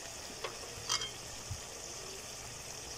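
Spices and meat frying in a pan for khichuri, a soft steady sizzle with a couple of brief stirring scrapes, quiet and close, no talking.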